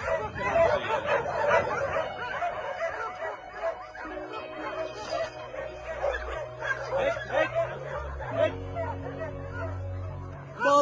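Several hunting dogs bark and yip in a busy, echoing chorus at a dog farm, with whimpers mixed in and a low mechanical hum underneath throughout.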